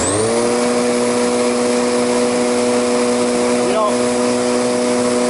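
A Riccar or Miele canister vacuum cleaner runs steadily and loudly throughout, its motor whine holding a constant pitch with a brief whistle-like shift near the end.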